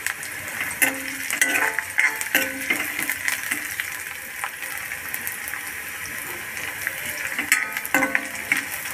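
Onion for lasooni methi fries and sizzles in a pan with repeated spoon stirs and scrapes, a steady close hiss under intermittent clatter, no voices.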